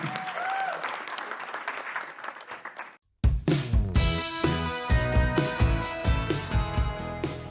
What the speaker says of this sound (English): So can you kindly clap hands as the video is coming?